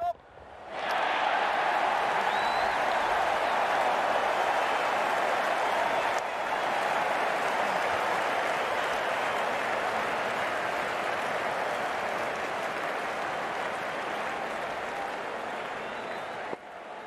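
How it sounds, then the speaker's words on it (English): Sustained roar of a large IPL cricket crowd cheering and applauding at a Kolkata Knight Riders versus Mumbai Indians match, steady and loud for the whole stretch with only slight dips in intensity. "That's what the crowd have come to see."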